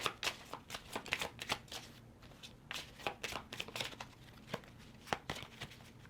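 Tarot cards shuffled and pulled from the deck, a close, quiet stretch of riffling flutters and soft slaps in uneven bursts with short pauses, heard alone.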